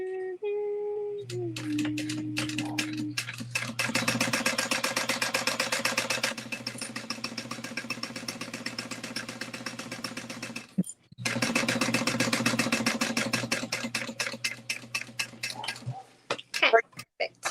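A domestic sewing machine runs a half-inch seam allowance in long steady stretches of rapid mechanical ticking with a brief pause midway, then slows into separate stitches at the end, with someone talking quietly over it.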